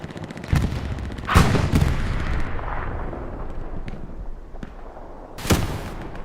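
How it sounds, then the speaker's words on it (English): Rocket blasts and explosions hit a Panzer IV tank in a competitive Hell Let Loose match on Utah Beach, with loud booming impacts at irregular intervals over a continuous rumble of battle noise. "There's another rocket. Takes out that P4."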